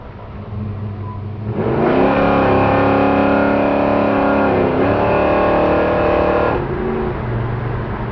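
A 1965 Chevrolet Chevelle cruises at highway speed. Its engine swells into a loud, steady, harmonic drone with a brief dip in the middle, then settles back to a lower rumble.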